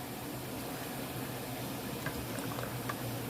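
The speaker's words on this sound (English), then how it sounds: "Now let's pour in our rice. And just let that boil" Rice simmering in broth in a pot for rice pilaf, a close, soft continuous bubbling with scattered small pops and gurgles, quiet and steady with no talking.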